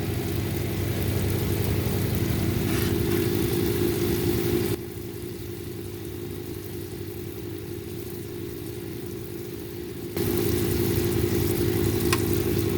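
A rotary polishing shaft spinning a foam pad against a red lace agate cabochon, a steady loud motor hum and whir that drops to a lower, softer load midway, then returns to full pitch, no talk.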